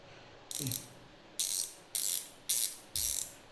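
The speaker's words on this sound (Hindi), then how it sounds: "तो अभी रैचेट स्पैनर को ही मैंने रैचेट हैंडल में कन्वर्ट कर लिया।" A ratchet spanner set used as a ratchet handle makes five short bursts of rapid metallic clicking, close and distinct, with brief pauses between them and no talking.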